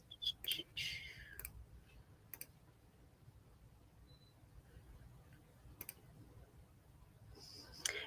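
Faint, sharp computer mouse clicks while exporting an image file, a few scattered single and paired clicks spread over quiet room noise.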